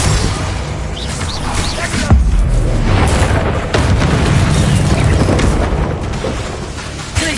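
A heavy, rumbling blast from casting the Bombarda spell in a wizard game, with booming impacts and a dense wash of crashing noise sustained loud and close throughout.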